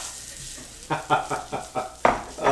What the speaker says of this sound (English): Always like to hear that sizzle. Sizzle on the griddle.